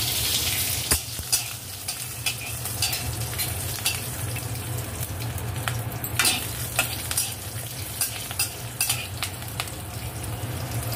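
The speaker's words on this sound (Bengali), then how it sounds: "এবার জিরে ফোড়ন দিচ্ছি আর কাঁচা লঙ্কা।" Cumin seeds and green chillies sizzle steadily in hot oil in a home kitchen, a loud constant frying hiss with occasional stirring clinks and scrapes throughout.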